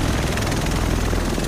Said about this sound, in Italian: Gli altri dovrebbero essere su questo elicottero.